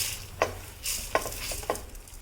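Lentils and salt dry-roasting in a hot pan, with three sharp scrapes of a spoon stirring them against the metal over a faint, steady sizzle.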